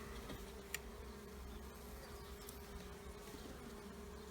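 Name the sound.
bees buzzing in a hive box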